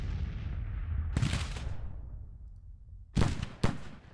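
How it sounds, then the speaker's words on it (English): Grand Tactician: The Civil War game artillery: two heavy booming cannon shots with a low rumbling tail, then a pair of sharper reports close together near the end, loud and alone with no voices. "Artillery's enjoyable to watch."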